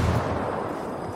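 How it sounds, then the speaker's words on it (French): Grenade blast and gunfire in a PvP video game, a dense, loud boom-heavy rumble of battle that fills the whole moment without a break. "Frag lancé."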